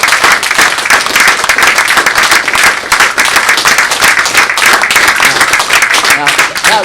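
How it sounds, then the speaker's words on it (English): Church congregation applauding after a Baptist sermon, a steady dense wash of clapping that runs the whole time at full strength, with a preacher's voice coming through briefly. "You applauded me sweating."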